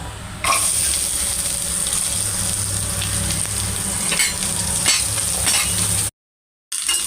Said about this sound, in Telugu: ఒక 10 జీడిపప్పు పలుకులు, 10 కిస్మిస్, కొంచెం ఎండు కొబ్బరి వేసుకుని ఫ్రై చేసుకుందాం.